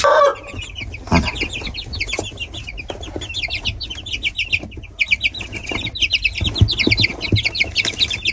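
Several roosters cluck repeatedly in their new coop, with busy bursts of close, bright clucking and chatter that build toward the end, alone with no voices.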